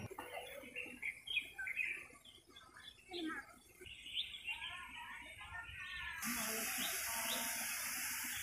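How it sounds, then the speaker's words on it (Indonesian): Several birds chirp and twitter nearby in a quiet outdoor setting, with soft background hiss and a faint trickling sound late on. "suara alami, ada suara burung"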